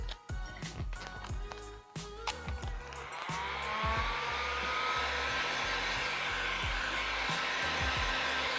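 Heat gun blowing hot air on vinyl wrap foil on a Yamaha R1 motorcycle, a steady, loud whooshing hiss that sets in after a few seconds and holds, with earlier scattered clatter and faint background noise.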